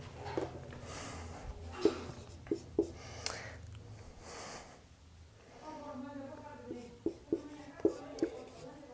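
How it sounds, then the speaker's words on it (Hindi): Handwriting a geometry question about counting triangles: soft scratchy pen or marker strokes with a few sharp taps, set against a quiet room hum, with no talking. "दूसरा क्वेश्चन और लिख देता हूं"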